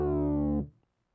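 A buzzy synthesizer tone with fractal sync modulation, its envelope decay driving the fractal control, held briefly with a gently falling pitch, then quickly decaying into silence; no voice.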